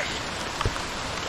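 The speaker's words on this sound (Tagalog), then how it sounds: "Pagkalakas ng ulan." Steady, dense hiss of heavy rain pouring down, with a couple of brief louder thumps midway and no voices.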